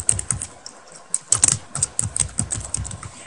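Typing on a computer keyboard: a close, crisp run of irregular keystroke clicks in quick bursts with brief pauses, alone without talk.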